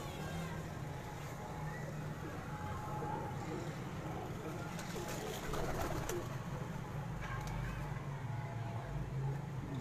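Khatang high-flyer pigeons on a Karachi rooftop coo softly in the background with low, rolling calls under someone speaking Hindi-Urdu.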